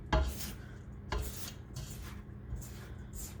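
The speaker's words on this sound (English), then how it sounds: "Gonna scrape down the mixer again" A spatula scraping down the bowl of a stand mixer full of cake batter, about four rasping strokes at a slow uneven rhythm, close and moderately loud with no talking.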